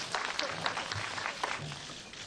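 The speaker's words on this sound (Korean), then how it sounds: "박수 한번 쳐주세요." An audience applauds at a press and distribution screening of the Korean film The Unjust. The clapping is fairly faint and continuous, with scattered individual claps, and no one speaks over it.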